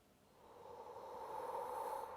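A steady, breathy exhale during a core exercise on a mat, rising gradually and holding for about two seconds, close and fairly quiet with no talking.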